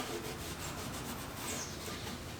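A cloth rubs wood stain onto a wooden Christmas tree planter box, producing a steady close scrubbing hiss with rhythmic back-and-forth strokes.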